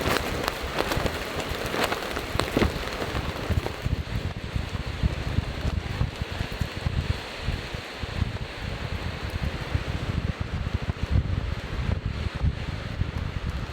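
Rain filters through a forest canopy onto tarps at a campsite, a dense continuous hiss and patter mixed with wind, steady and enveloping.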